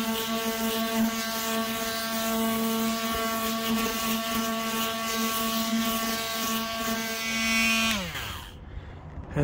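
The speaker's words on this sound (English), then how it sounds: "I'll just be using some 80 grit sandpaper on this" An oscillating sander with 80 grit sandpaper works on a Winnebago roof, giving a loud, steady motor whine with a strong hum. Near the end the pitch drops as it spins down and cuts off.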